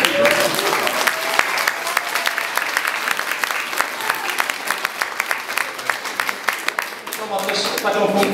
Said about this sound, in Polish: myślę, że jeszcze można mocniej klaskać